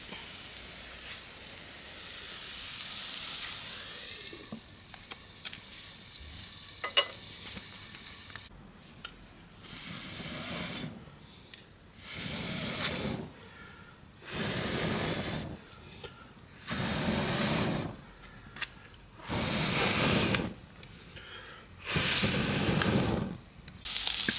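Spices stirred into a hot pan for a Sri Lankan Tamil fish or meat curry, with tomato and onion already cooking down, sizzle in a broad steady hiss that swells and fades in repeated bursts as the pan is stirred.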